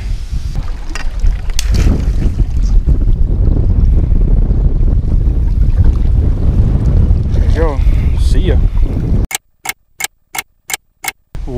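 Strong wind gusting across a lake during a fishing trip, a steady loud roar buffeting the microphone, with broken bursts of noise cutting in near the end.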